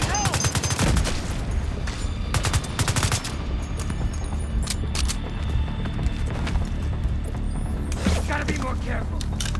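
Tom Clancy's The Division 2 combat in the Warlords of New York expansion, with rapid machine gun bursts crackling close and loud, repeated volleys and scattered single shots layered over a busy battle din.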